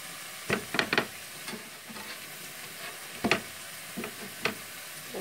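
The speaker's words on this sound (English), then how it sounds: "check the process of the bread toasting" Bread for a Reuben sandwich toasting on a griddle gives a faint, steady sizzle, broken by a few quick scraping clicks of a spatula checking underneath.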